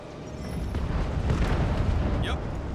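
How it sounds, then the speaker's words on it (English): Incoming fire from a scrap heap inside a giant rock in the Guardians of the Galaxy video game sounds as a dense rumbling barrage of booms and bursts, with a few brief higher chirps near the end. "that scrap heap's taking pot shots at our monsters."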